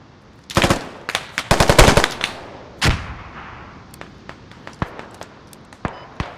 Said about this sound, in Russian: Там пулемет где-то кроется.